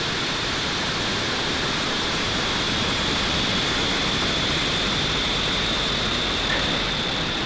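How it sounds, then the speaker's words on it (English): Falcon 9 rocket engines at liftoff for the Intelsat Galaxy-37 launch, a steady, dense, loud broadband roar that holds constant throughout with no voices. "Ignition and liftoff for Falcon 9."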